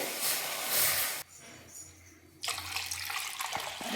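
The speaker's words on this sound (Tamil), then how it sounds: "நான் இன்னைக்கு காய்ச்சி ஆற வச்ச பால் 2 கப்பு சேர்த்து போகிறேன்" Milk pours into a pan for a semolina sweet in a home kitchen, a soft liquid splashing stream that pauses briefly and then resumes, quiet and close with no speech.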